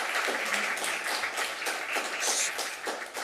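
An audience at a neighborhood meeting breaks into applause, a dense, steady burst of many hands clapping that carries on through the whole moment without any voices.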